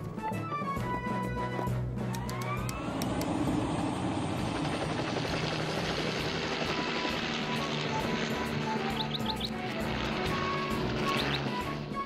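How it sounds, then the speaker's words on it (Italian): A helicopter flies close by with a steady, loud rotor thrum and whine that fills the whole stretch, with faint other noises underneath. "Io prendo l'elicottero, Sam."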